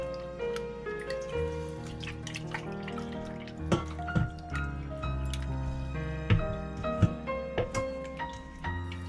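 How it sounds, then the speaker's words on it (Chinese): Pork belly slices squeezed and kneaded by hand in a basin of cold water give wet squishing and dripping sounds, with a few sharper splashy squelches standing out near the end, close and steady. "接着在五花肉里倒一盆冷水，用手抓捏几下，洗净肉片里边的血水和油脂。"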